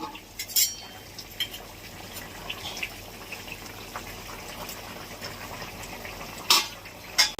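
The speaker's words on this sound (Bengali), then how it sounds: "এই যে ঝোল ফুটে উঠেছে, মাছের মাথাটা দিয়ে দিচ্ছি।" A fish curry (jhol) with ridge gourd bubbles at a boil as a fish head is dropped in, a steady soft bubbling with a few louder splashes and clinks close by, no talk.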